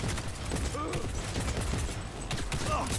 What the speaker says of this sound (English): I've just shot the grenade out of him.